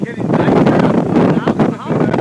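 Strong, cold wind gusts roar and buffet the microphone as a storm with a forming funnel cloud approaches Kenosha, loud and surging, with voices mixed in.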